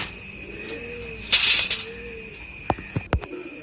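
Pet pigeons kept for sale coo softly nearby, a couple of low drawn-out coos, with brief knocks and a short burst of rustling noise in between.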